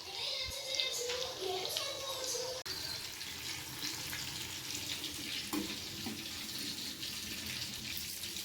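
Fish frying on a tawa, seared on both sides in oil, gives a faint, steady sizzle and crackle with scattered clinks and background household noise.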